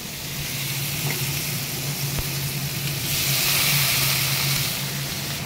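Pumpkin, beans and potato with green chilli fry in hot oil with a steady, close sizzle that swells slightly midway, over a low constant hum, with no voices.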